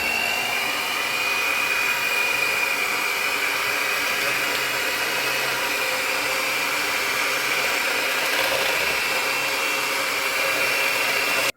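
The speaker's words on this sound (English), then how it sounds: "So that's our sugar mixed with oil." Steady electric mixer whirring through sugar and cooking oil for cupcake batter, a constant close drone with no pauses.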